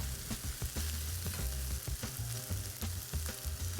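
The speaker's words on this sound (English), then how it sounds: "Let's toss this together again and let's give it a taste." Shrimp fried rice tossed in a hot pan gives a steady sizzle punctuated by repeated scraping and clattering of a utensil against the pan, close and moderately quiet, with no voices.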